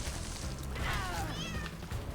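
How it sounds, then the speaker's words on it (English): A cat lets out a meow that stretches into a yawn, a short close call over a low background hum, with no speech. "mid-meow she yawns at me"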